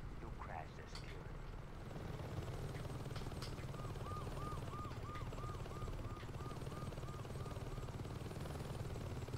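A helicopter in Saints Row 2 drones with a steady rotor chop and engine hum, loud and constant throughout, while a rhythmic warbling alarm tone pulses above it and a voice talks over the top.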